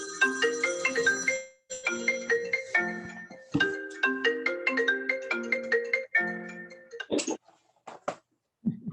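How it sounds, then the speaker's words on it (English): Melodic electronic phone ringtone from an incoming call during an online camera club meeting, repeating its short tune several times, loud and close, then cutting off into a few clicks and handling sounds. "Someone's calling my phone."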